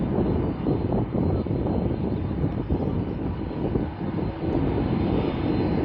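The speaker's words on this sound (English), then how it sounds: "This is an Aer Lingus coming round now" An Aer Lingus airliner taxis round at Manchester Airport, its engines giving a steady, loud rumbling roar that holds throughout without a break.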